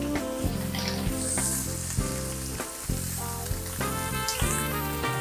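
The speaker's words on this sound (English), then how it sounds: "we're gonna come back and we're gonna sear the other side" Pan searing seasoned with salt, pepper and rosemary, a loud, continuous close-up sizzle with occasional sharper spits, running under background music with no talking.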